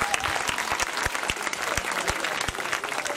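Audience applause for a singer and voice actress at an outdoor cartoon-themed music festival, steady dense clapping with a few sharp louder claps throughout.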